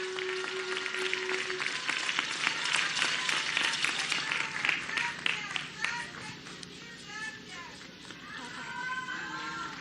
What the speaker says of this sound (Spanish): Un aplauso para el comité del FAISPIAM